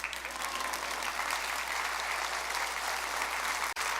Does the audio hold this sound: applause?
yes